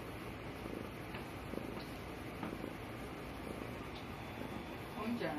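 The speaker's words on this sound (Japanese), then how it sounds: "ゴロゴロ言うとるわ。" A cat purrs close by in a home, a soft continuous rumbling thrum with a faint domestic hum beneath, ending in a slight rustle of movement.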